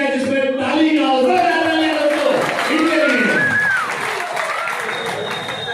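An audience at an award distribution and welcome ceremony claps in a steady wash of applause while a voice speaks over it, the clapping thinning toward the end.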